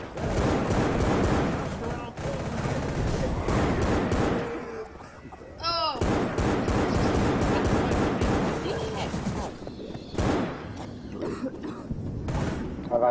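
Dense game gunfire from the zombie shooter Left 4 Dead: loud, rapid bursts of shots that fill most of the stretch, with a couple of short lulls and voices talking over the action.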